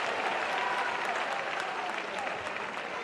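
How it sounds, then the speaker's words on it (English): Home fans applaud steadily throughout a basketball game, a dense, continuous wash of clapping from a large arena crowd at moderate level. "Beverly takes a seat to rapturous applause by the home fans"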